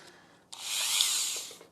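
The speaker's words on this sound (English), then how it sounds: "so our friends will listen only the noise from the drill" A small handheld drill grinds into a piece of pumice stone, shaping it into an earring, with a close, high, gritty whine that starts abruptly and runs for about a second before stopping.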